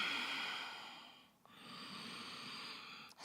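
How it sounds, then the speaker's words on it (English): Steady ujjayi-style yoga breathing held in downward facing dog during an Ashtanga short form practice, a continuous airy hiss close to the listener with a brief pause midway, no talking. "Check in with the sound and the quality of your breath."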